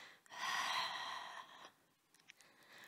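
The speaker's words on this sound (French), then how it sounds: "Encore 3 longues respirations." A long, deep breath is drawn during a Pilates exercise, a close, breathy rush that swells and slowly fades, followed by quieter soft breathing.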